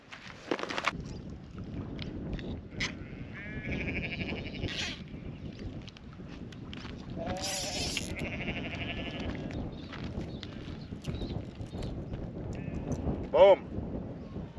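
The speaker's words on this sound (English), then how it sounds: "Try not to get in the sheep's way. They're thirsty," Thirsty sheep gathered at a farm dam bleat on and off, some calls close and loud, others farther away, over outdoor ambience with occasional rustling and knocks.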